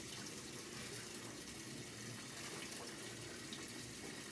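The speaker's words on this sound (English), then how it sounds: "I just run it under the water so that it can kind of dilute" Tap water pours steadily over liquid laundry detergent, a constant close hiss and splash that goes on unbroken, with no voices.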